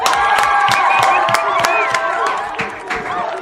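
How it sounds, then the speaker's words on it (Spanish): Audience welcoming a guest with strong applause and cheering, dense clapping with whoops and shouts, loud and close, then tapering slightly near the end. "seguiremos con nuestra tradición de recibirte con un fuerte aplauso"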